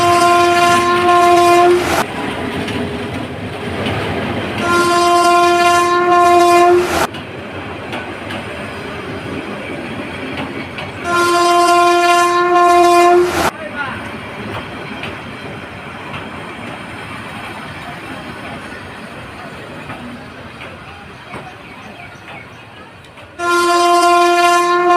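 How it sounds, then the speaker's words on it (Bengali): A train approaches on the rail line with loud, repeated horn blasts, four in all, each lasting about two seconds, over a steady rolling rumble and clatter of the cars. "দেখছি ট্রেন আইলো, আহই ট্রেন আইতাছে।"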